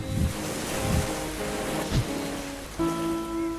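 Ocean waves wash onto a sandy beach in a continuous surf roar with a few low swells rising and falling, and some tonal hum comes in near the end.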